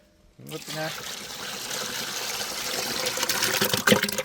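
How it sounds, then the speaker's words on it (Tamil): Dal cooking water for tomato rasam pours into a pan in a steady, close splashing stream after a brief pause, with a voice speaking over the pour. "தக்காளி ரசத்துக்குன்னு பருப்பு தண்ணியை சேர்த்துக்கிறோன்னு"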